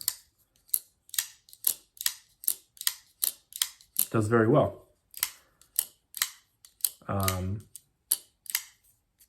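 Sharp metallic clicks repeat in a steady rhythm, a Kizer folding knife snapping open and shut again and again, with two brief bursts of speech between them.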